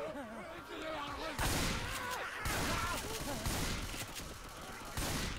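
Bursts of gunfire in the Roblox zombie shooter Left 2 Die, with loud volleys at regular intervals over constant game noise, and a voice talking over the shots.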